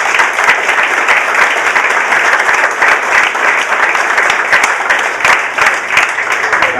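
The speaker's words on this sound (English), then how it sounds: "Kathy Freiling and Jim Freiling, I just want you guys to give them a round of applause." Crowd applause at a high school wall memorial ceremony, loud, sustained clapping from many people with sharp individual claps standing out, steady from start to finish.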